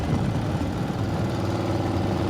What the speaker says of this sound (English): The flathead is purring along perfectly, judging by the sound of the exhaust.